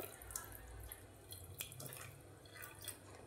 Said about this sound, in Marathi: तर आता आपण यामध्ये थोडंसं गरम केलेलं दूध टाकूया।